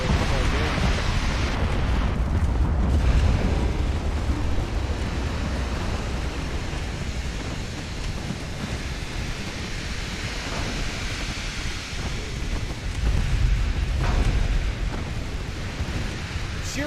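Heavy, rumbling naval combat in a warship video game: torpedo hits and explosions at sea swell into a continuous roar of booms and churning water, with surges near the start and again toward the end.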